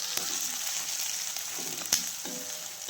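Onions fry with green chillies and curry leaves for a roadside-style mushroom gravy, a steady close crackling sizzle with a few sharp ladle taps and stirring scrapes, no one speaking.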